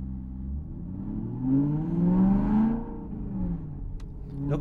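A manual car's engine rises in pitch as the gas is fed in during a smooth gear shift, a steady close hum that swells then eases as revs fall, with no voices.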